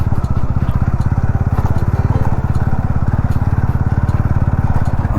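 Motorcycle bumping along a rough, broken road through dense hillside forest, its engine chugging loud and close in a steady pulsing rhythm with rattling over the uneven surface throughout.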